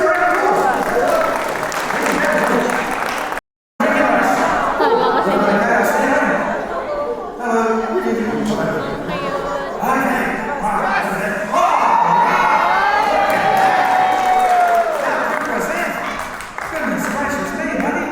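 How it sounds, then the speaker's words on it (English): A crowd claps, cheers and whoops at a live sheep shearing show at the Agrodome farm in Rotorua, New Zealand; the broad, steady roar runs loud throughout, with voices calling out over it and one brief cutout. "Let's give a round of applause!"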